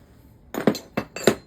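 Metal parts from rusty police-surplus shotguns, including a two-shot magazine extension, clink together in a few sharp, close knocks spaced unevenly over a quiet background.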